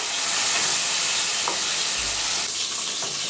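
Ground masala paste sautéing with onion and tomato in a pan for sardine fish curry, a steady loud sizzle with a few spoon scrapes and stirs, no voices.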